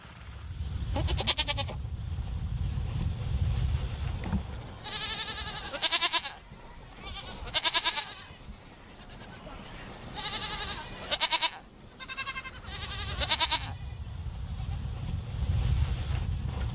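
Several goats bleat repeatedly, some close and some farther off, their wavering calls overlapping across a steady outdoor background.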